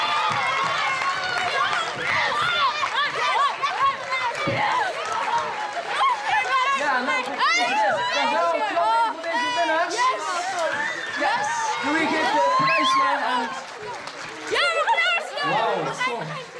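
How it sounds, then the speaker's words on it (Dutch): An audience at an award ceremony in Maastricht claps and cheers for the winning class film, a loud, sustained mix of applause, excited shouts and crowd chatter, with voices throughout. "Applaus alsjeblieft!"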